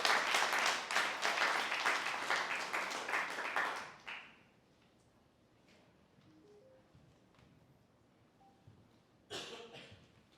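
Audience applause for students at a veterans recognition program at Handley, a dense burst of clapping for about four seconds that quickly fades to room quiet, then a brief second spatter of claps near the end.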